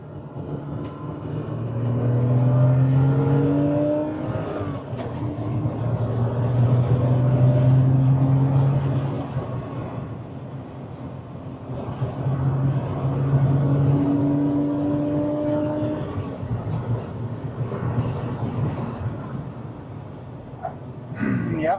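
An old Porsche Boxster engine revs on a Nurburgring lap, rising and falling through several long pulls as the car accelerates. Heard from inside the car with steady road and wind roar, while people talk over it at times.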